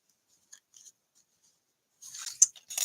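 Scissors snip into paper to cut out tree shapes, heard as a few faint clicks followed by a closer burst of crisp cutting and rustling near the end.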